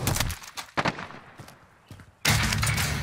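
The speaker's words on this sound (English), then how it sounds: "I'm shooting." Gunfire in the battle royale shooter Call of Duty Warzone on Verdansk: several close, sharp bursts in quick succession, a quieter gap with scattered pops, then a heavy sustained burst at the end.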